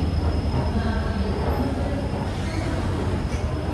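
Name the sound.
Nanded railway station, trains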